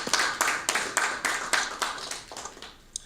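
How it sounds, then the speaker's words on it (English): Hand clapping from an audience at a ministerium gathering, a dozen or so distinct claps in a steady rhythm that gradually soften and thin out, ending with one last isolated clap. "would you just give God a hand clap for Ivan, our friend and brother."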